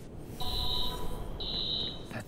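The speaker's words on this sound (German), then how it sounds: "Alarm ist ausgelöst." A high electronic alarm tone in the Watch Dogs video game sounds in two steady beeps of about half a second each, separated by a short gap, over a constant background of game ambience.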